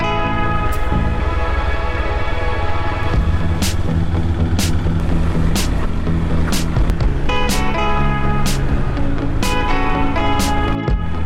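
A motorbike rolls onto a gravel morum road near Bishnupur, with a loud constant engine and wind roar, crunching tyre rumble and repeated sharp jolts and rattles as it bumps over the rough surface.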